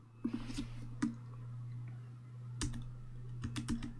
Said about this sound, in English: my keyboard stopped working again